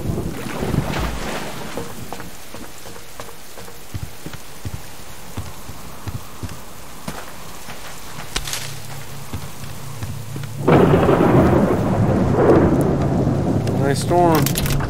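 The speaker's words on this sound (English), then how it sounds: "Storm." A thunderstorm with rain: a steady wash of rain and low rumbling, with a louder burst of heavy rain and thunder toward the end.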